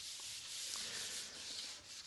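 Fine-grade sandpaper smoothing the final coat of traditional gesso on a panel, a soft continuous hissing rub with slight back-and-forth swells, close and quiet.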